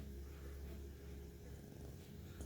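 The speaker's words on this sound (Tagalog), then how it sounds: "Mabait ito si Luna, mabait itong pusa." A pet cat purring, a quiet low continuous rumble close by with no talk.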